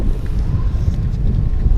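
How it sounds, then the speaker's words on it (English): Wind buffets an outdoor microphone beside a blue 2014 Toyota Prius Plug-in, a steady low rumble that roars on without letup and carries no voices. "it's getting windy here"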